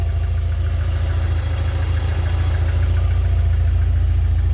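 Car engine idling steadily, close and loud, with a deep even rumble and a rapid fine pulse, no talk.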